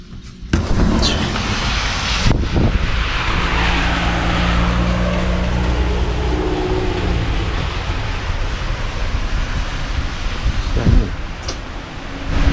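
Strong wind gusts roar steadily outdoors in cold weather, a loud broadband rush buffeting close by with a few sharp knocks, and no talking.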